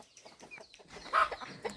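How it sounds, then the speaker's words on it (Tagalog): Chickens cluck softly on a small family farm, a few brief scattered clucks and calls at moderate distance with quiet gaps between them. "Manok."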